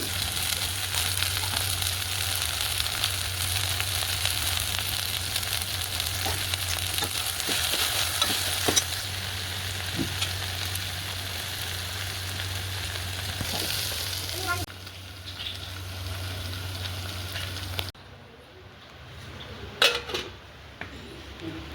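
Okra curry fries in hot oil with a continuous close sizzle, stirred with clinks of utensils against the pot; the frying drops away near the end, leaving quieter clatter and faint room sound.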